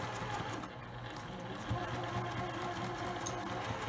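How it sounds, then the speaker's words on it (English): A sewing machine stitches a box corner on a zippered fabric tote bag, running steadily and close for the whole stretch with a short pause and a brief backstitch bump partway through. "So we're at the sewing machine, and I'm going to use the line mark that I made to use as a guide to sew the box corner here."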